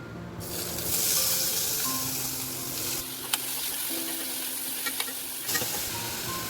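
Chopped onions dropped into hot oil with cinnamon and clove, a loud steady sizzle and hiss close by, with a few light clinks of a spoon against the pan.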